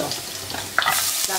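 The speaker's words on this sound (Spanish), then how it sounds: "ponemos el ajo molido, que es un ajo grande, y bajamos el fuego a medio" Ground garlic from a large clove sizzling over medium heat in a pan, with a close, soft frying hiss and a few stirring scrapes.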